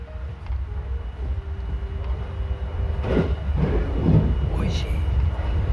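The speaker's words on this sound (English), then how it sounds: "I love riding these nearly empty trains." Steady low rumble of a nearly empty train in motion in Okayama, Japan, with a constant hum and occasional clatter and rattling, heard from inside the carriage.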